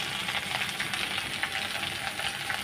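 Potatoes fry in a pan with salt and turmeric, giving a dense, steady sizzle with bubbling crackles close by and no voices.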